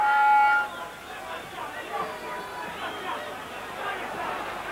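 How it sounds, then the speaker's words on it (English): A boxing crowd at the 1985 WBA world featherweight title fight between Eusebio Pedroza and Barry McGuigan cheers and chatters in a steady, loud roar that holds throughout, with a brief swell at the start. "The crowd cheer him on."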